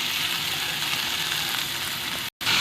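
Tomatoes land on garlic and peppers already frying in a pan, bringing a dense, steady sizzle with faint stirring scrapes, then a brief dropout before the hiss returns.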